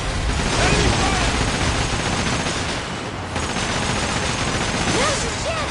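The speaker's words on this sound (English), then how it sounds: "Enemy fire!" Cannon and gunfire from an enemy ship during a pirate naval battle in Like a Dragon, a loud continuous barrage with rumbling booms, with voices shouting over it.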